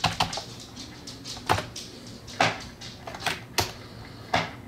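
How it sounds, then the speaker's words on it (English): Rapid clicking keystrokes on a computer keyboard in short irregular bursts, close and fairly quiet, with no talking. "A bunch of strokes on the keyboard."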